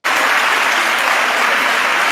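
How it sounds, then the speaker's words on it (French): A congregation applauds at a religious gathering, dense sustained clapping filling the whole moment, loud and close, with no voices over it. "Famille, applaudissez encore."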